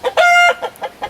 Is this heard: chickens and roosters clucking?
yes